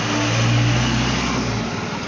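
A motorcycle engine revving as the rider sets off on a ride into town along the roads of Fatehpur, a loud, steady mid-pitched drone that holds strongly throughout with a slight swell near the start.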